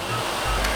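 A rainforest waterfall rushes as a broad, steady roar heard from a high abseiling point, close and fairly loud, with a brief low rumble and a faint high hiss near the end.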